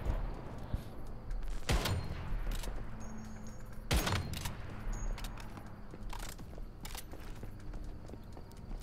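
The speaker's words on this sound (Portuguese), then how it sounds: "Olha ele atirando de costas!" Enemy gunfire in the video game Once Human comes as two sharp, fairly quiet shots a couple of seconds apart, over a low, busy game background with no talk.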